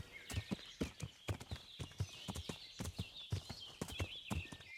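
Horse hooves clip-clop at a steady walking rhythm in Kingdom Come: Deliverance, close and distinct, with a faint whinny and light ambient wind along a stream path.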